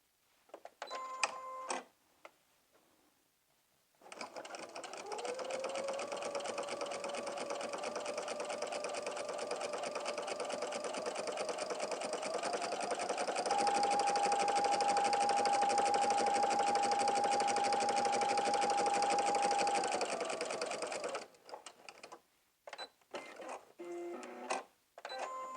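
Sewing machine running a long continuous stitch through silky fabric under a walking foot, a steady whirring hum with a rapid needle rhythm, steady and close, with a brief higher tone partway through and short clicks before and after.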